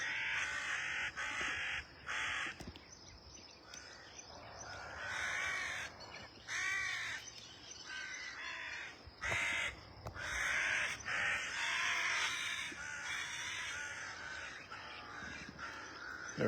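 Several crows perched in a tree caw repeatedly, loud harsh calls in irregular bursts close by, with overlapping voices and short gaps between outbursts.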